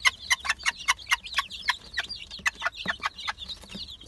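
A mother hen with her chicks clucking in rapid repeated bursts, close and fairly loud, a steady string of short calls over a quiet background.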